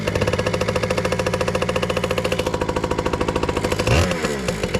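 A small dirt bike engine runs with a fast, steady putter, then briefly revs up near the end before settling back; loud and close, no voices.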